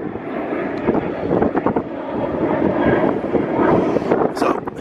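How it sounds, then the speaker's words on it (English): An airplane passes overhead outdoors, a steady, loud, broadband roar that swells slightly and is mixed with wind buffeting the microphone. "sorry for the plane"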